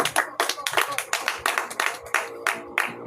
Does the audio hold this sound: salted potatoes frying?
no